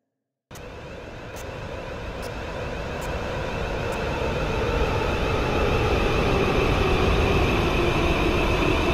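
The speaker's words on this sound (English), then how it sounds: "The train approaching the platform is Rare Express service." A loud, steady rumbling roar builds and grows slightly louder as a train approaches a station platform close by, with a few faint ticks near the start.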